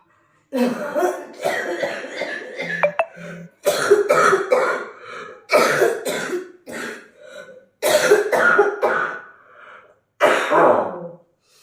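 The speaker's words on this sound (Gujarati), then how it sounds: "આ તમને ઝલક બતાવી કેવી ઉધરસ છે એની" A woman coughs in a series of harsh, wet bursts separated by pauses, close and loud, with throat clearing and strained breaths between the fits.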